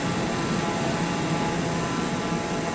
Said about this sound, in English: The plane is now louder than me.